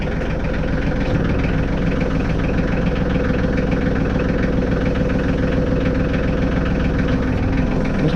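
A big mower tractor's engine idles steadily and loudly up close, a constant low rumble with a faint knocking pulse and no voices.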